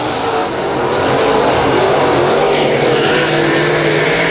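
Race cars roar around the Super Bowl Speedway dirt track in a loud, continuous, dense engine drone that swells slightly as the field runs past.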